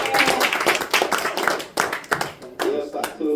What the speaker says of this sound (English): Now it's time for you to clap for yourself.